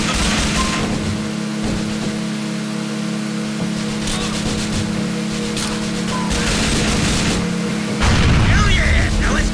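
Bombs exploding during a mission in GTA IV: The Ballad of Gay Tony, with several loud booming blasts spread over the stretch and a heavy, rumbling bed of game noise between them.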